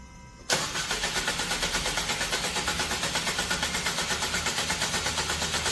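An engine of a 2012 Renault Samsung New SM5 LPI with a stalling fault cranks with a rhythmic starter churn after a quiet moment, a loud, close, steady pulsing that keeps turning without clearly catching.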